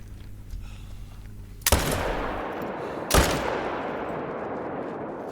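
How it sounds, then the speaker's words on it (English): Two sharp rifle shots fired at a pronghorn while hunting in theHunter: Call of the Wild, set in Silver Ridge Peaks, each a loud crack with a long rolling echo, about a second and a half apart. "I think we got a decent shot on him"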